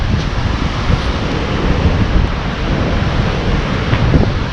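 Strong gusting wind roars across a Great Lakes shore during a storm with winds near 50 mph, a continuous loud rush that buffets the microphone, with surf likely mixed into the steady noise; no one speaks.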